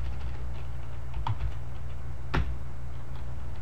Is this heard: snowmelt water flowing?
no